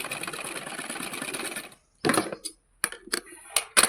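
A sewing machine stitches piping onto a blouse, a close, continuous rattling whir that stops abruptly, then returns in several short bursts separated by silent pauses.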